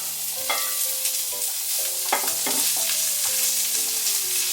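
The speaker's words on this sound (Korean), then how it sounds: "그럼 저희는 우선 새우만 여기 굽겠습니다." Shrimp frying in hot olive oil in a pan, a steady close sizzle with occasional scrapes and clinks of stirring, no voices.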